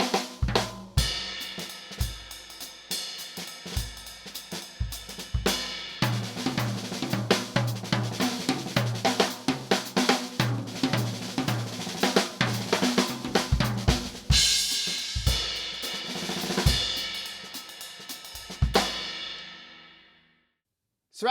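A drum kit plays a six-stroke roll phrase with accents on beats 2 and 4, a dense, loud and continuous stream of snare, tom and cymbal hits that stops abruptly near the end.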